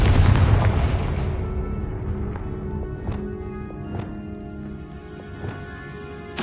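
A Confringo blasting spell in Hogwarts Legacy erupts in a loud, booming explosion that slowly fades, followed by scattered fainter impacts and thuds.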